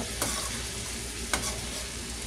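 Sliced bitter gourd (ampalaya) frying in a pan with seasoning, a steady sizzle broken by two brief scraping strokes of a spatula stirring it.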